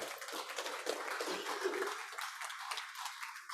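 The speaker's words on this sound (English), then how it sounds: "So please give them another round of applause." An audience applauds at an annual meeting, with a dense spread of soft clapping heard from a distance that carries on evenly and thins slightly toward the end.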